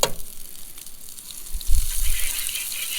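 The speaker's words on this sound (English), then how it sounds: "We are gonna fry the cactus in butter" Cactus strips frying in butter in a pan, a soft, steady sizzle throughout that briefly swells and crackles louder partway through, with no talking.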